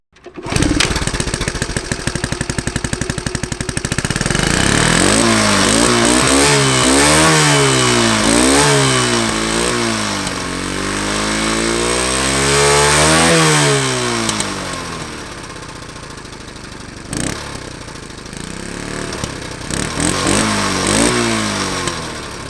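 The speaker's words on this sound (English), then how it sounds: "So let's have a listen and a ride on the great Australian Postie Bike." Honda CT110 Postie Bike single-cylinder engine while riding, loud and close, with a steady buzzing drone that rises and falls in pitch through repeated gear changes and throttle swells, easing off near the end.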